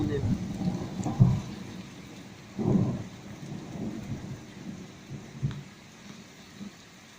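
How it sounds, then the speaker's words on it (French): Violent thunderstorm in Les Arcs-sur-Argens, Var, with heavy slanting rain: loud rumbling thunder claps rise and fade over a steady hiss of rain, with someone talking in places. "La pluie, regardez comme elle tombe en travers."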